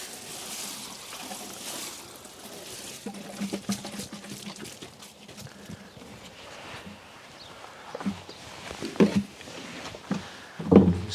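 Water pours from a watering can onto compost in a steady soft trickle and splash, with rustling and a few knocks of handling growing louder near the end, and no speech.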